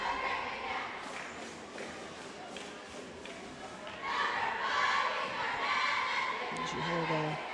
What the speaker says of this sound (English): You hear the cheerleaders cheering for him